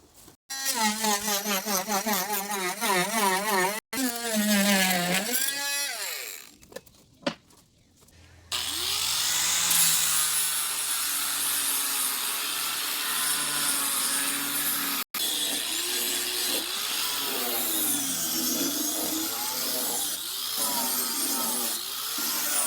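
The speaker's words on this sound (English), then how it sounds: "Now I'm gonna use the multi-tool and I'm gonna trim off all this excess that we have here." An oscillating multi-tool trims excess pallet wood on a deck, a loud buzzing whine that rises and wavers as the blade bites, pauses briefly, then grinds on steadily through the cut, close and without talk.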